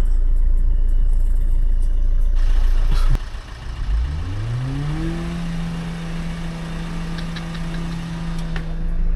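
A Maruti Swift on a steep uphill climb at Naldehra strains and revs loudly, then settles into a rising, steady engine drone as it struggles in place, with a thud partway through.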